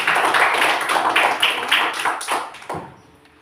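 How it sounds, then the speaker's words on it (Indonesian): Children clap their hands together in a short burst of rapid, fairly loud claps that thin out and fade after about three seconds, with no talking. "Tepuk tangan untuk kalian semua."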